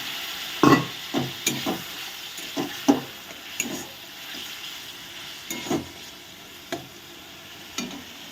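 Spice paste with coriander powder for a rohu fish curry sizzles in a pan after a splash of water, with a series of short scraping stirs and bursts of frying crackle over a steady low hiss.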